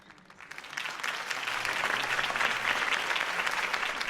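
Applause in the video game Batman Telltale swells from a quiet start into a dense, sustained clapping crowd, loud and even for several seconds with no talk over it.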